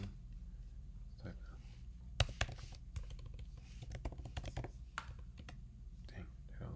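Typing on a computer keyboard, with irregular close key clicks in short bursts and a louder tap, all over quiet room noise.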